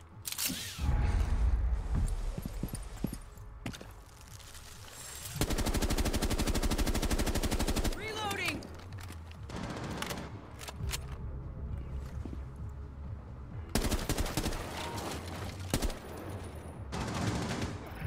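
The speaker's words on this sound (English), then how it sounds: "Shotgun going live." Shotgun fire in the stealth video game Styx: Shards of Darkness, heard as repeated loud close blasts and rapid bursts mixed with mechanical clicks and clatter, sustained noisy stretches and brief quieter gaps between volleys.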